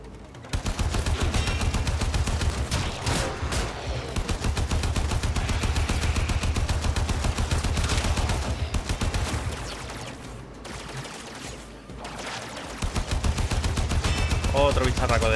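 Rapid, continuous automatic gunfire from the video game Warframe, loud and dense for most of the stretch with brief dips, some speech-like sound faintly underneath.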